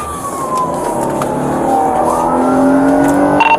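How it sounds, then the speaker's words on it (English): A loud wailing police car siren sweeps down and up in pitch over engine noise, ending with a short sharp tone. "I'm gonna kill the siren right here, Sparks says."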